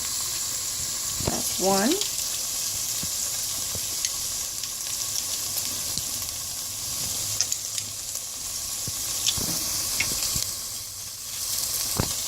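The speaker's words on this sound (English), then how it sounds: "we are now going to use our garlic press to press 3 cloves of garlic into our pot" Browned ground beef sizzles steadily in a pot as garlic cloves are squeezed through a garlic press into it, a constant close frying hiss with occasional clanks and stirring, and a voice counts briefly.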